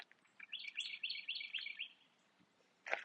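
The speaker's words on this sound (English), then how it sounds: "And these birds doing their thing out here," Outdoor birdsong: a bird sings a quick run of bright chirping notes for about a second and a half, followed by a pause and one more short call, fairly faint in a quiet setting.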